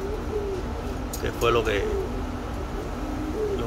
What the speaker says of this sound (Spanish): con excepciones de las dos palomas que incorporé